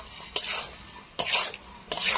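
Fried prawns stirred into sizzling masala in a pan, three distinct scraping stirs of a utensil at roughly even intervals over a low background sizzle, close and clear.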